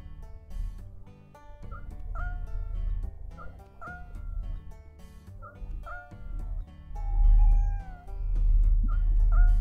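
A cartoon cat in the video game Pet Clinic meows repeatedly, giving short, clear, rising mews spaced a second or two apart over a low background hum, with no talk.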